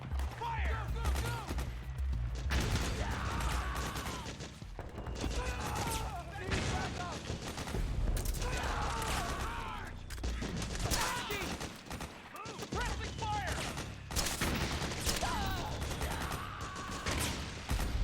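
Rapid bursts of automatic gunfire and scattered shots from the video game Metal Gear Solid 4, loud and nearly continuous throughout with brief lulls, mixed with shouted voices and battle noise.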